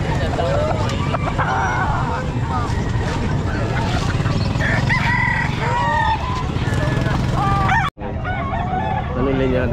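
An 11-month-old bullstag gamefowl rooster crows amid a busy pet market, several crows rising over a dense background of other fowl, honking geese and people talking nearby.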